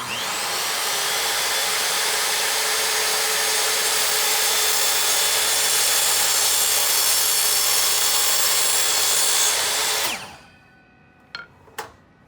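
A table saw cutting a wooden miter, a loud steady whine of the blade through wood for about ten seconds that spins down abruptly, followed by a couple of faint knocks.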